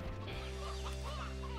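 Chickens clucking in the video game Slime Rancher, a short burst of hen clucks over a steady game soundtrack with sustained tones.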